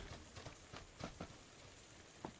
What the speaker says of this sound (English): Yeah, a little bit of rain moving in.